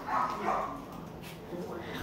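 Dachshund terrier mix puppies bark and yip in a few short, close bursts, heard under a person talking.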